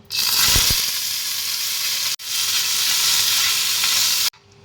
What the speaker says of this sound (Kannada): ಇನ್ನೊಂದು ಕಡೆ ಪಾಸ್ತಾ ಮಾಡ್ತಾ ಇದ್ದೀನಿ